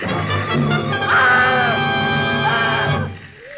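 A woman in a vintage 1950s horror radio drama lets out a sustained, loud, wavering shriek with strained harmonics, rising and falling for about two seconds before trailing off.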